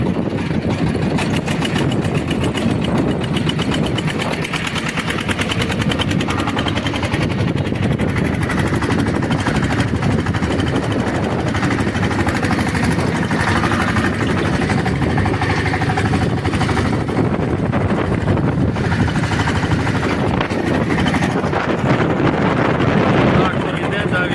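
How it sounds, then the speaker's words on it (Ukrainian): A homemade tractor's small engine runs steadily and continuously for the whole stretch, a loud mechanical drone with no pauses and no speech over it. "показати вам, що трактор далі працює."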